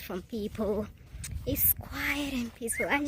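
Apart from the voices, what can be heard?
No distinct noise like a dog, phone or traffic.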